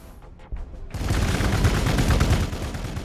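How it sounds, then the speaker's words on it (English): Rapid gunfire from a squad tactics video game opens abruptly after a brief quiet start, a dense continuous crackle of shots that stays loud for the rest of the moment. "We'll open fire here."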